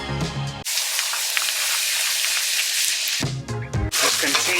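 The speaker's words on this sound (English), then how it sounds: "you want to wait until the pot that you're going to be cooking the rice is hot, so that you can start frying the rice" Rice fries in a hot pot for Mexican rice, giving a loud, steady sizzling hiss that runs on without a break while music plays underneath at the start and end.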